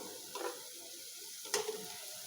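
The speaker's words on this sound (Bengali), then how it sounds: "তো আমি এটি লাল লাল করে ভেজে নিব।" Hilsa fish coated in gram-flour batter frying in oil, with a soft, steady sizzle close by and a couple of brief louder spatters or stirring touches, no voices.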